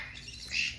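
A pet golden conure or Cape parrot gives a brief, shrill squawk, rising at the end over faint room noise, with no talk.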